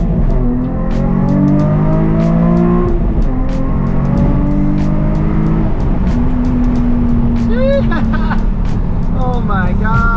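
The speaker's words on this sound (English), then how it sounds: "Listen to this downshift though." A Nissan 350Z engine revs and drops through the gears on downshifts, its tone sliding from high to low with rising and falling whines, loud and close in the cabin while people talk excitedly over it.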